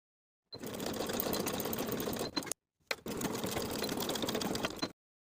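A sewing machine runs a zigzag stitch securing drawstring onto knit elastic, two steady close runs of rapid needle chatter separated by a brief stop.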